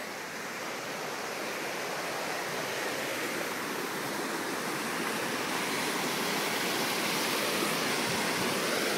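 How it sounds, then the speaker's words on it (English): Flowing trout stream running well, a dense continuous rush of water heard steadily throughout with no voices. "sounds like a trout stream"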